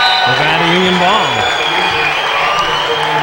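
A high school basketball gym crowd at a Nevada Union versus Roseville game erupts in cheers and applause after a block, with loud whoops over steady clapping and a commentator's voice riding on top.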